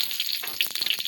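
Dried chilli and black cumin fry in hot oil in a wok, giving a continuous bright sizzle with soft crackles and faint stirring knocks, close up and without talk.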